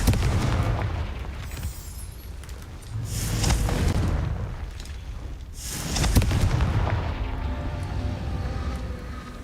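Fire spell explosions in a video game, a string of deep booming blasts swelling and fading over a continuous rumble.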